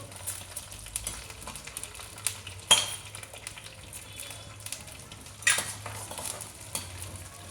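Faint sizzling of chana dal and urad dal frying in oil, with scraping and stirring clatter, a couple of sharper utensil knocks against a pan, no voices.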